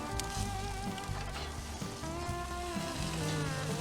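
A tomahawk ribeye steak sears in a hot pan outdoors after sundown, giving a loud, continuous sizzle and crackle with a faint low hum underneath.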